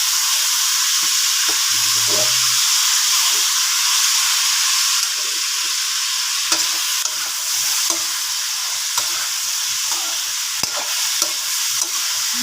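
String beans sizzle and fry in a pan for ginisang sitaw as they are stirred, a steady close hiss with occasional scraping clinks from the utensil.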